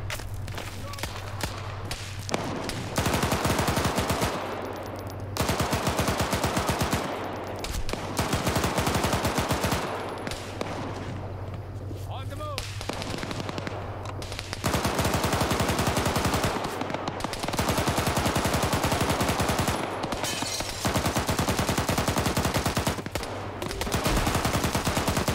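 Sustained gunfire in a military shooter game, an HEDP gunner firing bursts at an enemy on a DShK, loud repeated volleys with brief gaps over about twenty-five seconds.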